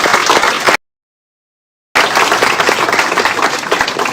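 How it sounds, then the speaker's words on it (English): Crowd applause at an inauguration ceremony in Saint Lucia for a tourism ambassador partnership, loud and dense, broken by a full second of silence before the clapping resumes just as strongly. "let's give a round of applause"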